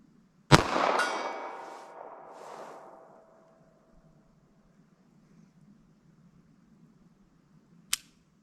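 A single sharp report from a .22 WMR rifle firing Armscor ammunition at a 75-yard target, ringing out and decaying over a couple of seconds, then near silence until a brief second snap at the end.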